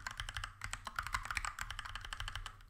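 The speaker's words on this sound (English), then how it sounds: "Oh, this is gonna take a second to type in." Quick, steady keystrokes on a computer keyboard clatter close and fairly quiet, a continuous run of typing with no voices.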